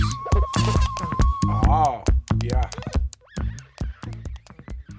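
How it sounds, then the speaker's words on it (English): Odd percussive knocks, scrapes and a reedy whistling tone from improvised vegetable instruments, with a short spoken exclamation over the clattering music. "So that is the sound of vegetable instruments"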